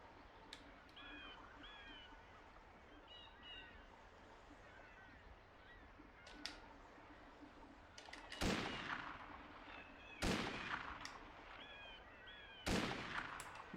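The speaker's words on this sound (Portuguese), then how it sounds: "Eu tive que dar 3 tiros." Three sharp, loud gunshots in the video game Mafia, spaced a couple of seconds apart, each with a brief echoing tail, over a quiet ambient background with birdlike chirps.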